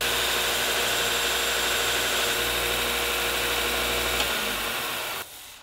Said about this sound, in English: it's about 1 billion times easier to grind the fuller into the blade than to forge it